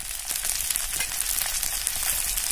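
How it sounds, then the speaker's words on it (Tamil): Fish fries in a pan over a village cooking fire near a forest, a continuous bright crackling sizzle with dense spitting pops, close and fairly loud, with no one speaking. "செமையா ஃப்ரை ஆயிட்டு இருக்கு."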